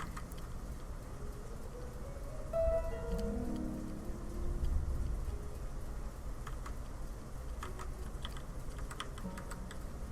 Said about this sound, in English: Ooh, I hear the thunder.